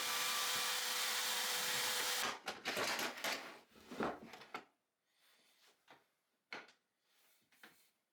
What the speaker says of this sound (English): On the miter saw, I cut all the leg parts at 7 degrees, 16 inches long.